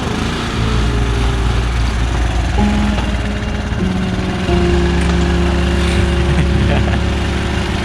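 Motorcycle engine idling up close: a loud, steady, buzzing drone with clear harmonic tones that shift in pitch slightly as the idle is adjusted, running continuously throughout.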